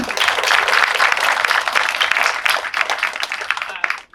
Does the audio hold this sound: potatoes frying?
no